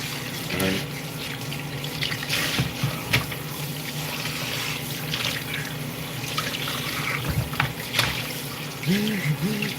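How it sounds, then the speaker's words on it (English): Kitchen tap water runs and splashes steadily into a sink while fish, snapper, are rinsed of lime juice, with brief clatters of handling and a faint voice near the end. "Now we're just gonna wash lime juice off these fish."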